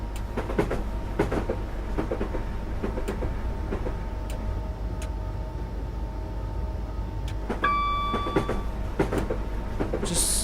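A train in Dovetail's Train Simulator coasts toward Croydon station, a low steady rumble under rhythmic clicks and clunks from the wheels, with a short chiming tone near the end.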